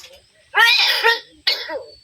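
Two bursts of coughing, a longer harsh one followed by a shorter one, close and loud with no other sound around them.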